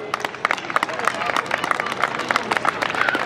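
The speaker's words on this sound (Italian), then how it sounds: "un grosso applauso anche a lui" An audience at a sports club's team presentation claps in a steady patter of scattered hand claps, with crowd murmur underneath, moderately close.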